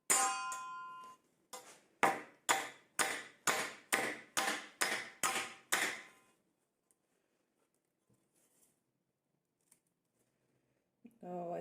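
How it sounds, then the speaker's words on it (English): Metal clangs from a hammer striking a hand saw fixed solidly in place in a woodworking shop, about a dozen sharp, ringing hits at a steady rhythm, close and loud, then silence. "I'll get a bigger hammer once."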